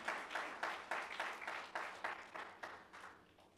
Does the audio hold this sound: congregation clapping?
yes